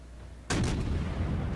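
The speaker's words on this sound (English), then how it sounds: "That was an AP salvo." A naval gun salvo in the World of Warships game crashes in suddenly after a quiet moment, one loud broadband boom that rolls on as a sustained rumbling roar.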